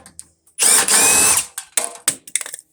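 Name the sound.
removing screws to take a transformer off a furnace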